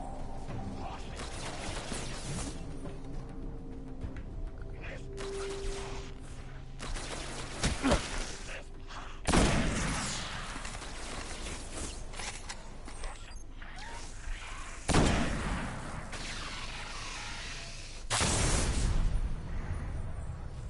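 Sniper rifle shots in the Destiny video game on PS4: a few loud, sharp broadband cracks spaced several seconds apart, over a busy bed of mechanical game noise and ambient hum.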